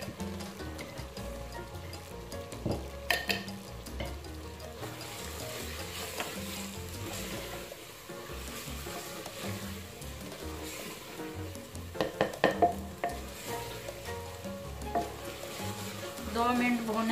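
Garlic-ginger paste frying and being stirred into a cauliflower curry, a steady close sizzle with spoon scrapes and clatter running throughout, louder bursts of stirring near the middle and end.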